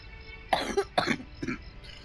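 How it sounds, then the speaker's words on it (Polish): A person coughs three times in quick succession, close and moderately loud, with short gaps between the bursts and no talking. "ja mam taki kaszel"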